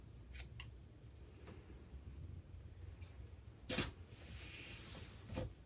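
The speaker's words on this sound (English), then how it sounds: "So then we're just going to cut out this little piece right here." Scissors cutting a knit sweater, a few quiet, separate snips spaced apart against a faint, still room.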